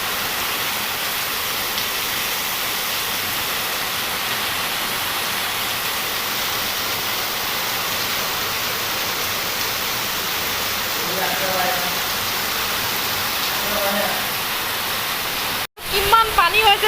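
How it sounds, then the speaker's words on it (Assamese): Heavy rain pours down near a temple in the afternoon, a loud, dense and continuous roar of falling water that holds steady for the whole stretch before a brief cut near the end. "আহি পোৱাৰ লগে লগে একদম পুৰা বৰষুণ আহিছে"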